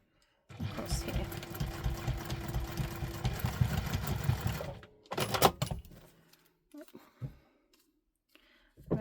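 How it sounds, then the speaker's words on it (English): Sewing machine stitching across a wallet with a D-ring, a loud steady whirring run of about four seconds, then a few clicks and handling knocks as the stitching stops. "we're going to just stitch across here"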